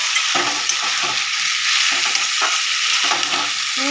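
Food is stirred in a hot frying pan of spiced curry with potatoes fried in salt and turmeric, ahead of adding chickpeas. Repeated scraping strokes sound close and loud over a continuous bright sizzle.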